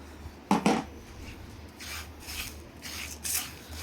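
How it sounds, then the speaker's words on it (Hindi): A tablespoon of poppy seeds (khus khus) is stirred in a hot pan with the flame switched off, roasting in the residual heat for a homemade masala powder. Faint, scattered scraping and rasping strokes come in short bursts against a quiet background. "जो पैन की हीट है उसमें खसखस अच्छी तरह से भून जाएगा"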